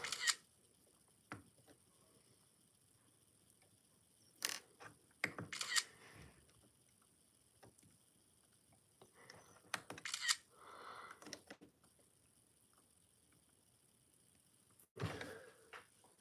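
A camera shutter fires in several sharp mechanical clicks in the video game, some singly and some in quick pairs, spread across a quiet background with long gaps between shots.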